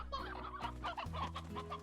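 Chickens in the video game Slime Rancher give a few quick, soft clucks in a short burst, heard alone.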